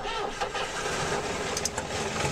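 An old tractor engine starts up in a survival roleplay video game, cranking and catching into a steady mid-pitched running chug, close and fairly loud with a few sharp clanks.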